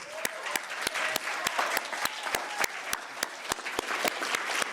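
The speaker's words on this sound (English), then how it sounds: "Can we give her a round of applause?" Audience at a political gathering applauds, a dense, steady wash of clapping with several sharp, nearby individual claps standing out in a regular rhythm, sustained throughout.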